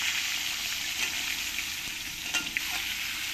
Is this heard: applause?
no